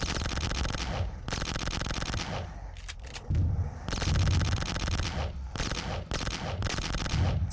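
Rapid, loud shotgun blasts from the Boxhead 2play flash game fire in long continuous bursts with brief pauses between them, with no talking over it.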